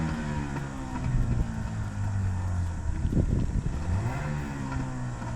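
A motorboat engine drones nearby, low and steady, over rushing water and wind buffeting the microphone.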